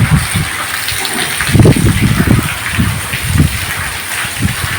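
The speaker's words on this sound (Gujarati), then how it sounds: "અટાણે જે ચાલુ જ છે વરસાદ" Heavy monsoon rain comes down in a dense, steady roar, swelling in low gushing surges with no talk.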